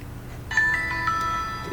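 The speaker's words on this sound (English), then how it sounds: "Freaking cell phone goes off every time I make a video." A cell phone goes off partway through with a bright electronic ringtone of sustained tonal notes that starts abruptly and carries to the end over a quiet room hum.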